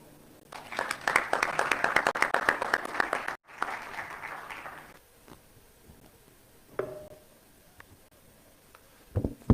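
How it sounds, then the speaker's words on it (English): Audience applause for a panel at a political talk on imperialism, a dense burst of clapping that stops abruptly, resumes briefly, then fades into scattered faint claps and room noise. "we should give another big round of applause to the entire panel"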